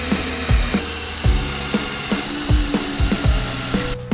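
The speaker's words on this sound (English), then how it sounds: "I'm going to drill through and bolt it through the bottom of the hull now" A power drill works through the bottom of a jet boat hull with repeated short bursts, each a sharp whining bite that fades quickly, set close and fairly loud against a background hum.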